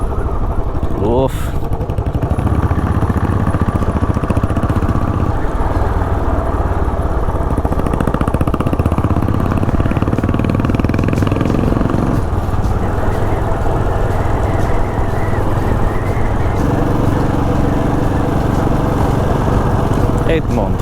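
Royal Enfield Bullet 500 single-cylinder motorcycle riding along French country roads, a loud continuous thumping engine drone under wind buffeting, with a rider's voice speaking briefly over it.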